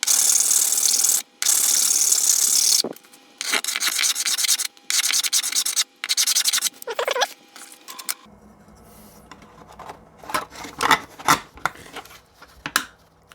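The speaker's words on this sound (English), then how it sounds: "all I'm going to do is sand down the sides just a little bit" Sandpaper rubbed along the edges of a 3D-printed plastic part, loud rhythmic scraping strokes in repeated bursts separated by short gaps, followed by quieter scattered scrapes and handling knocks, close up.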